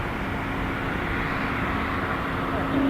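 An Air Canada Boeing 737 MAX 8 takes off from Toronto Pearson, a steady, loud broadband jet roar that holds constant throughout and swells slightly at the very end.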